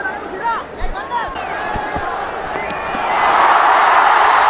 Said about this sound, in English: Much to the delight of the crowd here. And massive cheer.